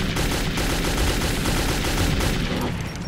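Sustained automatic gunfire in Metro 2033 rattles loud and close throughout, a dense continuous burst of rapid shots with no pauses.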